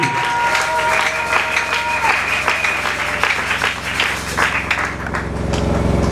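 Church congregation applauding and acclaiming the Lord, loud sustained clapping and voices from a crowd, with a sung or shouted tone early on, fading slightly before swelling again near the end.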